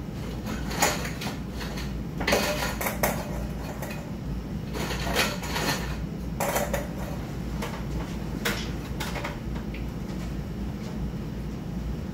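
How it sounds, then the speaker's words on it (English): Metal beer cans and lids set out in a small brewery, making intermittent light clanks and clatters over a steady background hum, with no talk. "Now I'm going to go ahead and get the cans and lids staged up."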